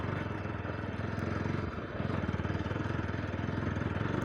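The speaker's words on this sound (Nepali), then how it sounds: "बाइक तात्तियो गाइज, बाइक तात्तियो हो।" A hot motorcycle engine idles and revs steadily up close, a continuous rhythmic low-pitched putter with a brief dip before picking back up, all on an off-road track.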